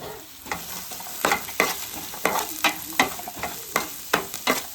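Chicken cooking for pulimunchi, frying with masala, garlic and garam masala in a pan and being stirred: a steady sizzle broken by rhythmic scraping strokes about every half second, close and fairly loud.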